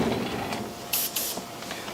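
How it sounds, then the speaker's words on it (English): Airbrush spraying black shading along the bottom edges of glass lettering, two short bright hissing bursts of compressed air close by, each about a quarter second, over a low room hum. "We want to spray closest to the edge that we can."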